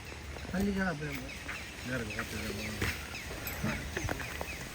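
Pair of geese foraging for food on a farm, giving several nasal honks and calls in short bursts, mixed with background noise and a person talking nearby.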